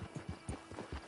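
Horse hooves clip-clop steadily in the video game Red Dead Online, a faint, even series of soft low thuds at a walking pace.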